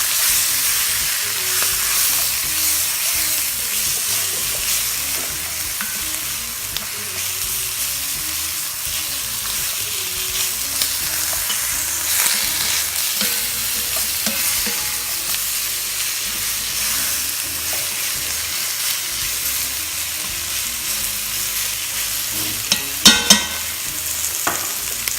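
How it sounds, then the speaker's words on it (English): Finely chopped shallots, onions and garlic sear in a pot with a loud, continuous hissing sizzle, close and steady, with occasional stirring scrapes and no talk. "now we're going to sear the onion a little bit in the pot"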